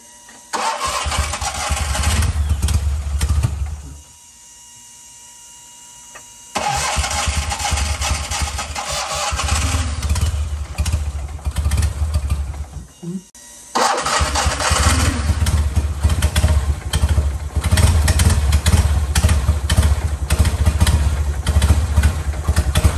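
A Fiat 126p fitted with Honda CBR fuel injection runs on a dyno, its small engine roaring loudly and revving hard, dropping briefly to a quieter idle before surging again.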